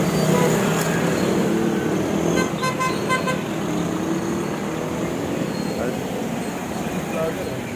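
Busy road traffic on Maharlika Highway in Santo Tomas, Batangas: a dense, constant vehicle rumble with repeated car horn honks clustered early on, fairly close and loud throughout.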